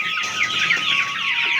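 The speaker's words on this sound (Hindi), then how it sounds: "ये है वो मुर्गियाँ इनकी बात कर रहा था मैं दोपहर में" Chickens on a small hill-country farm cluck and squawk close by in a busy overlapping chorus, several birds calling at once without pause and no voices heard.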